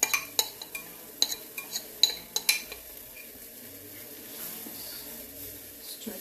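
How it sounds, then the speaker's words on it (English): A utensil scrapes pancake batter out of a bowl for chocolate chip pancakes, giving sharp clinks and scrapes in the first few seconds over a faint, steady sizzle from the pan. "Try to scrape out the bowl."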